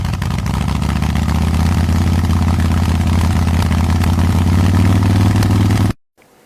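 A motorcycle engine idles steadily with a low, even rumble and mechanical clatter, loud and close for about six seconds before cutting off abruptly into silence.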